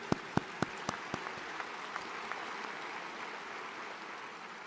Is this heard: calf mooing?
no